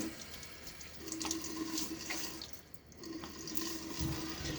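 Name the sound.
splashing water on face before shaving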